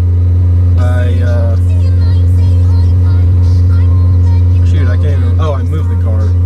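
A 240 car's engine hums steadily as it is moved and driven at low speed, a constant low drone running the whole time while someone talks over it.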